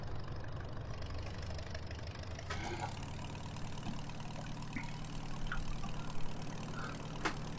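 Low, steady rumble of an Oliver farm tractor engine idling, quiet and continuous with a faint rhythmic knock, joined by a few brief clanks partway through.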